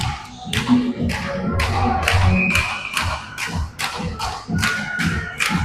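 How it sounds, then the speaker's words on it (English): Repeated sharp thuds and taps of ice hockey sticks banging at a U18 AA provincial final game, a steady rhythmic clatter over a loud arena crowd with cheering. "As sticks are banging"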